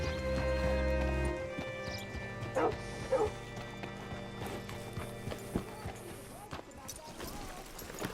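Horse hooves clopping on the ground in Red Dead Redemption 2 as a rider arrives and hitches the horse, with scattered hoof steps and short snorts beneath voices speaking over a steady low hum.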